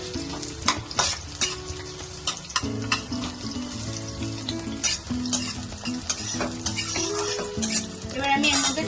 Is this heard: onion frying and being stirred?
yes